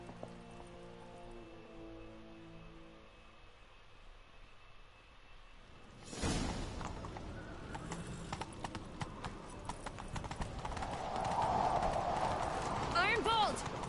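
Horse hooves in The Witcher 3 pound in a fast galloping rhythm that starts a few seconds in and keeps going, with voices talking over them.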